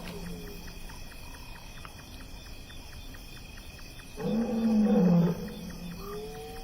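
A male lion roars at night, a single deep drawn-out roar rising out of a steady chorus of crickets and night insects, moderately distant.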